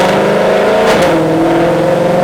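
Whipple-supercharged Ford GT500 V8 on a stock engine revs hard under boost, a loud, steady engine roar with a quick rise in pitch about midway, no talking.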